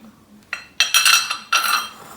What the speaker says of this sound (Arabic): وغادي نبدا نخلط بحال هكا على هاد الشكل هذا من التحت للفوق